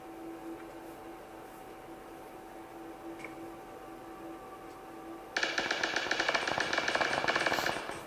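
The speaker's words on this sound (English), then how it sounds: "more shots being fired between teams 3 and 4" Gunshots traded between teams in PUBG crackle in a dense rapid burst that starts suddenly after a quiet stretch of game ambience, moderately loud.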